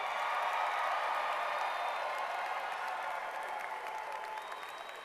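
A graduation ceremony audience claps and cheers for the Harrison School for the Arts class of 2025, dense sustained applause from a large crowd that slowly tapers off, with scattered whoops.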